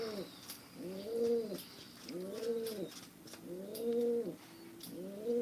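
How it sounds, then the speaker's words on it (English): Doves cooing in repeated soft, hooting phrases, about four calls with short gaps between them, fairly close and clear over quiet surroundings. "A lot of doves."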